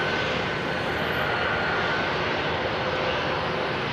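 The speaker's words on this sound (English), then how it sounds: "I'm in the BA 319 just taxiing towards the runway" A British Airways Airbus A319 airliner taxis toward the runway at London Heathrow, heard as a loud, continuous jet engine roar with a steady whine, close and unbroken, with no talking.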